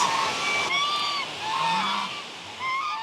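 A few ducks quack and honk in short overlapping calls close by near a footbridge to Manthoka waterfall, moderately loud over a faint background.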